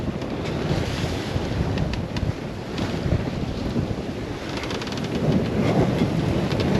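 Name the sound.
strong 24-knot wind and breaking waves on a sailboat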